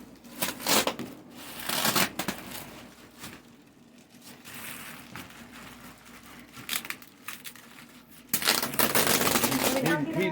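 A first mail package being unwrapped: bursts of crinkling and rustling wrapping with sharp tearing-like rips, loudest near the start and end, with voices talking nearby.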